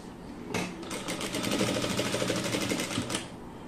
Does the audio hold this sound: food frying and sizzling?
no